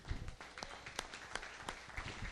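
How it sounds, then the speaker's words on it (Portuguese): A church congregation clapping during a service, quiet scattered claps with a few sharper hits standing out over a faint background, distant and low in level. "mais palmas ao Senhor"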